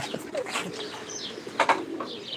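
Pigeons at a bird seller's shop coo and chirp in short bursts, with a brief flutter of wings and a couple of sharper calls near the end, set against a busy ambient background.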